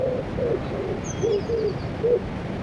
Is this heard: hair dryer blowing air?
no